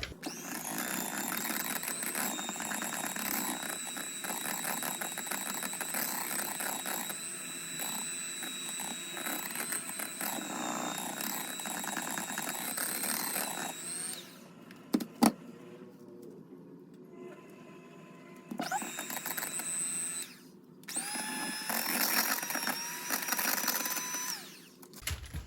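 An electric hand mixer whirs loudly and steadily as it beats cheesecake filling with dissolved gelatin. It stops and cuts out briefly around the middle, then restarts in short bursts.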